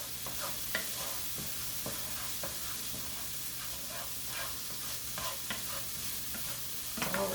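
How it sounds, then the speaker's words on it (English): Peppers and corn stirred in a hot pan: a soft, even sizzle under repeated light scrapes and clicks of a utensil, fairly quiet and close, with no talking. "I'm going to go ahead and stir my peppers in with my corn"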